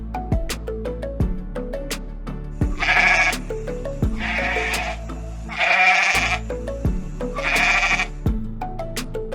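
A goat bleating over steady background music, with four long wavering bleats spaced a few seconds apart, loud and close.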